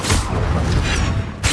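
A loud, roaring whoosh from the Incendio fire spell in the Hogwarts Legacy video game fills the whole moment, ending in a brief flare of hiss.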